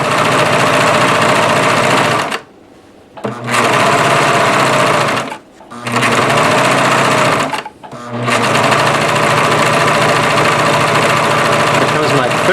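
A serger sewing machine runs loud and close while serge-finishing a blanket edge with crochet yarn, in a steady drone broken by three brief stops.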